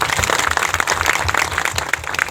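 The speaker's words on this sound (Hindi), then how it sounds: "ताली बजा दीजिए एक बार।" An audience at a gathering applauds, giving dense, loud, continuous clapping that fills the short moment.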